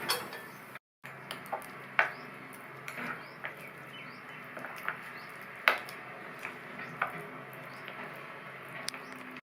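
A spoon stirs hot tempering into pirandai (adamant creeper) chutney in a bowl, giving soft, scattered clicks, taps and wet squishes that are faint and close against a quiet background, with no talking.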